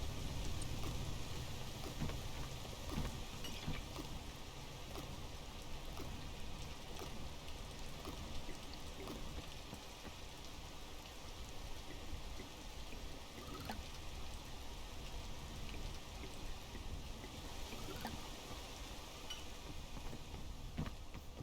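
Rain falling in a video game, a dense, steady hiss of rainfall with faint pattering drops, even and continuous throughout, no voices.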